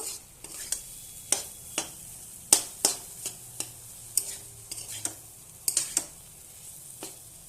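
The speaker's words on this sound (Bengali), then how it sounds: "তো ভালোভাবে নেড়ে নেব।" Fried potatoes are stirred in a pan, a spatula scraping the metal in repeated sharp strokes over a steady, faint sizzle of frying.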